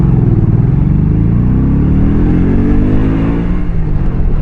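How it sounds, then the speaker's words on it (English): A car goes by close and loud, its low engine rumble and whir swelling and shifting steadily over a few seconds. "That's a nice car."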